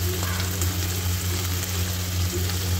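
Pasta frying in a pan with black pepper and sugar, a steady close sizzle with low hum and no talk.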